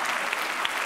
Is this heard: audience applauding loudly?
yes